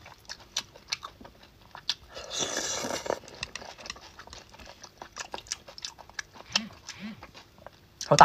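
Thick slices of pork belly are chewed close to the microphone, giving soft, irregular wet clicks and bites, with a brief louder rustling burst early on and faint quiet between chews.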